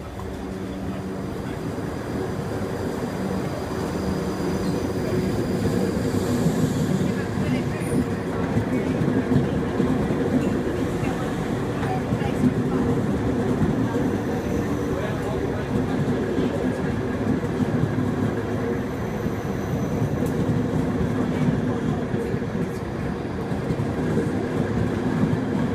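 A South West Trains Class 458/0 electric multiple unit runs steadily with a continuous low rumble and rail clatter, heard from on board and fairly loud throughout, with faint background voices.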